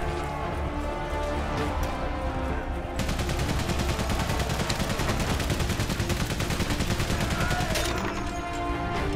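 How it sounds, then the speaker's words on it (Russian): Machine gun fire in the World War I video game Valiant Hearts, set at the Battle of the Marne, rattles in fast continuous bursts that grow denser and louder partway through, over a steady game soundscape. "Ждем, пока пулеметчик отстреляется."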